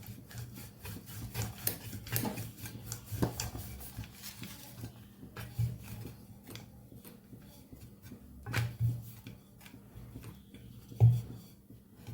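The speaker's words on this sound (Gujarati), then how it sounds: "હવે અટામણવાળું કરીને આપણે વણી લેવાનું છે" Spinach parotha dough for a Gujarati winter recipe is rolled with a rolling pin, giving soft, repeated rubbing and rasping strokes with a few light taps, close and fairly quiet with no talking.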